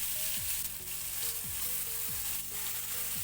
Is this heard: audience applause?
no